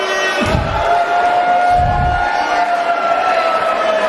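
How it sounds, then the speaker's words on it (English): A steady tonal ambulance siren wail holds a near-constant pitch over a loud, roaring crowd at a finals game, with a couple of low rumbling bursts beneath. "That's the sound of an ambulance."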